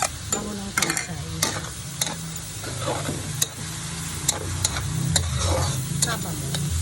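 Pancit canton noodles and Chinese celery fry and sizzle in a pan. A spatula scrapes and clanks against the metal in irregular strokes, and a constant sizzle runs beneath the stirring.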